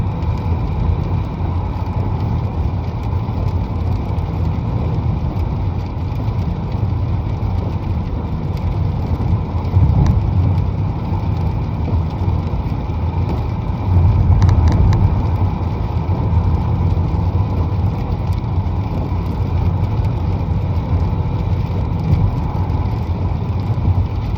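A car creeps through stop-and-go traffic, a low steady engine and road hum heard from inside the cabin with faint mechanical clicks and a couple of brief thumps, no talking.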